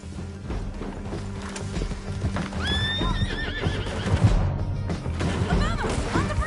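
A horse gallops in the video game Red Dead Redemption 2, hooves clip-clopping steadily amid a shrill neigh and scattered clatter during a chaotic escape.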